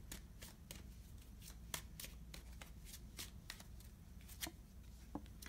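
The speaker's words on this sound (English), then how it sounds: "I'm going to pull a clarifier for that one too." Tarot cards shuffled by hand, a quiet run of soft riffling flicks and slaps at an irregular rhythm over a low background hum.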